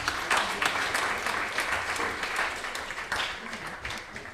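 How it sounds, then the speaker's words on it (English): Temple congregation at ISKCON Dallas applauds the cleanup team, a steady wash of clapping at moderate distance with some voices mixed in. "So let's give them a big round of applause"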